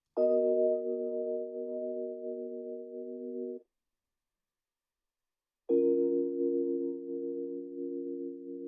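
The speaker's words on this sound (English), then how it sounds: "So the first thing we added to that was an EQ just to take out the low end" Rhodes electric piano run through an EQ that cuts the low end, two held chords separated by a pause, thin and mellow, close and alone.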